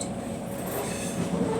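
South West Trains train near Clapham Junction, heard as a steady, fairly close rumble of rail running that holds evenly and alone for a short stretch.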